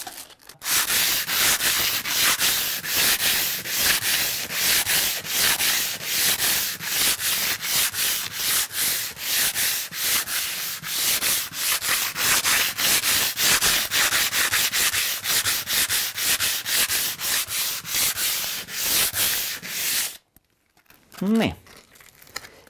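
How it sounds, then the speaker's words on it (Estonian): Sandpaper on a soft sanding block rubs rhythmically back and forth across a wooden floor, a loud, close, continuous scratchy swish for about twenty seconds before stopping, with a brief voice at the end. "see lihvklots vajutab meil lihvpaberi igale poole ühtlaselt puidu peale"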